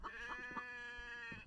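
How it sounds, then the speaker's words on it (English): A sheep in a winter survival video game gives a short, wavering bleat, close and fairly clear, with no talk over it. "Oh, there's a sheep."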